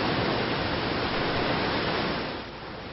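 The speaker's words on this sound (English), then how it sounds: "Over 600 feet tall and flowing year-round, Bridal Veil Fall would be a centerpiece in almost any other national park." Bridal Veil Fall in Yosemite, a waterfall over 600 feet tall, pours down in a constant broadband roar that stays full and even before easing slightly in the last moment.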